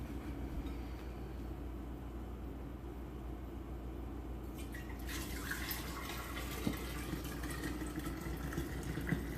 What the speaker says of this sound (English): dump the whey into my mason jar